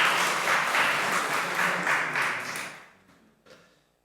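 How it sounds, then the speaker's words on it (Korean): Congregation applause in a church service, a loud, full round of clapping that holds for a few seconds and then fades to a few scattered claps. "박수를 쳐드려도 될 것 같아요."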